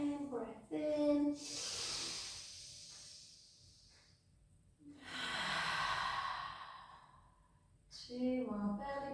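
Slow, deep belly breaths during a pilates session: long, airy inhales and exhales rise and fall close to the microphone. Brief spoken cues from an instructor come in between them.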